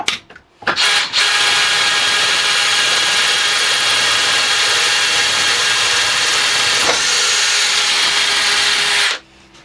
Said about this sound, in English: Let's try again on power 1.